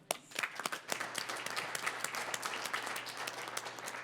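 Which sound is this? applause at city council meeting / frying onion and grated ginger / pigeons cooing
applause at city council meeting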